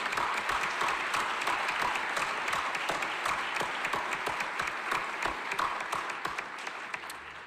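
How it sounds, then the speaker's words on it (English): Applause at an evening educators' awards and scholarship ceremony, given for an absent honoree: a dense, even round of clapping from the crowd that holds for several seconds, with sharper individual claps scattered through it. "please join me in giving him a round of applause in his absence"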